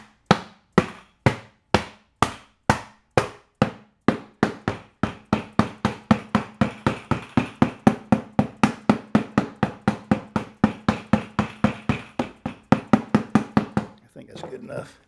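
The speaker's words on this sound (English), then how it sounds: "let me take this dead blow hammer right here and go to work" A dead blow hammer striking repeatedly, about forty sharp, close knocks in a steady rhythm that quickens partway through and stops near the end, with no speech.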